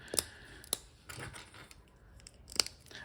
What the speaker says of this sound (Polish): słychać, że klocki są nieużywane, nie ma tu żadnych luzów, wszystko jest na ciasno